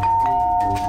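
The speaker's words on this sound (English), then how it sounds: "Doorbell?" A doorbell rings inside a video game, sounding as a steady, sustained electronic chime that holds for about a second at moderate loudness with no talking over it.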